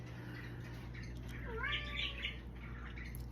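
A house cat gives one drawn-out, wavering meow partway through. It is fairly close but soft over a steady low hum and background hiss.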